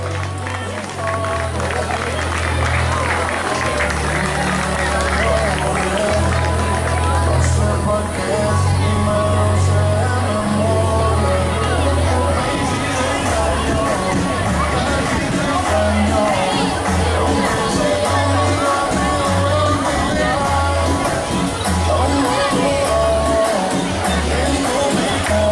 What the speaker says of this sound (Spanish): Fuerte el aplauso para Esportivo Rivadavia.